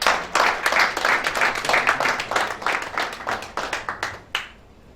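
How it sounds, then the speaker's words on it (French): A gathering at a New Year's greetings event applauds in a short burst of clapping, with distinct individual claps close by that thin out and stop near the end. "Sous vos applaudissements, bien sûr."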